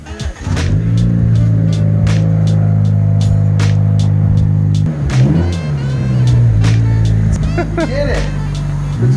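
2017 Honda Civic with a newly installed Clutchmasters FX350 clutch and single-mass flywheel, lowered off a lift with a loud continuous hum and then backed out, engine rumbling close by, with a brief break in the middle and people talking over it.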